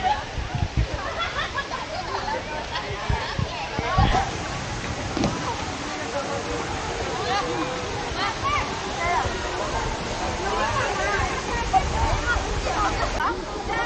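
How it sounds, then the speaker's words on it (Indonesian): A waterfall at the Lubuk Bonta tourist spot roars in a steady, broad wash of rushing water, with voices and crowd chatter mixed in throughout. "Ke bawah kita ke air terjun."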